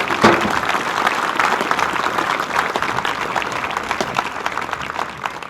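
Audience applause at a 2024 graduation ceremony: steady, dense clapping from a crowd that holds at an even level throughout, with a faint hint of voices underneath.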